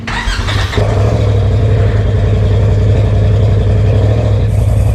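A Polaris RS1 engine runs steady and close during a test drive, a loud, low continuous drone with a slight shift in tone near the start.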